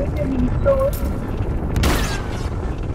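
A Titan air strike detonates in Call of Duty: Modern Warfare, a deep booming blast with a sharp burst near the end and rumbling debris around it, over low game ambience.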